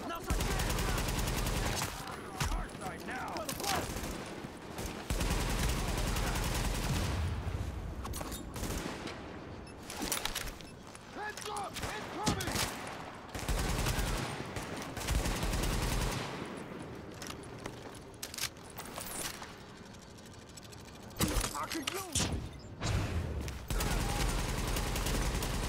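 Sustained gunfire in The Division during a rooftop firefight at the Lexington Event Center: dense bursts of automatic shots and single cracks repeat for the whole stretch, loud and close, with brief gaps between volleys.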